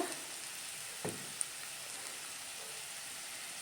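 Radish sizzles in a pan for sambar with a steady soft crackle of frying, broken by one brief clatter of a utensil.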